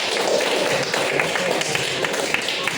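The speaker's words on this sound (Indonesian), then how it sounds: "Tepuk tangan dulu" A class claps together in a classroom, a loud, steady patter of many hands that lasts a few seconds with little talk.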